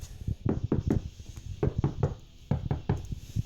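Knuckles rap repeatedly on an acoustically treated car door, dull, dense thuds in quick clusters of several knocks with short pauses, close and clear with no talking.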